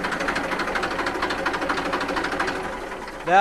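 A Massey Ferguson 241 tractor's diesel engine chugs steadily nearby in a quick, regular knocking rhythm, ending with a short louder burst.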